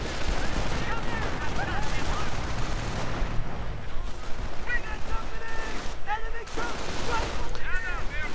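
Gunfire and booby traps exploding in a WWII strategy video game, a dense stretch of cracking shots and rumbling blasts in bursts, with a commentator's voice running over the battle noise.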